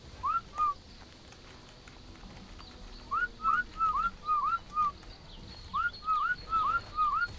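Player whistle commands in the game ARK sound as short, bright rising whistles. They come in quick bursts, first a pair, then runs of four or five, over a low ambient hum.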